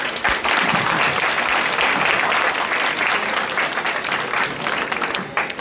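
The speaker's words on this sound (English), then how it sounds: "give me a big round of applause for our residential" Audience at a parent breakfast applauding a resident poet: dense, sustained clapping from a sizable crowd that stays strong and steady throughout, with faint voices blended in.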